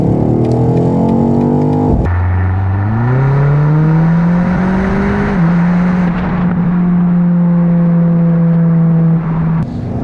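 A 2025 BMW XM Label, a 748 hp car fitted with an Akrapovic exhaust, roars loud and close at full throttle, its engine note climbing through the revs, easing, then pulling on again steadily.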